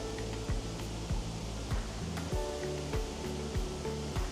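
A waterfall pours steadily in the distance, a soft, even rush of water that continues without a break throughout.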